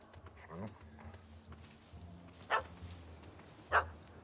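A dog barking at a cat up a tree in The Witcher 3: a few scattered yips and barks, two sharp and prominent, over faint ambient low hum and quiet background voices.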